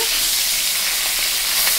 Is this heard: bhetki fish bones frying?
yes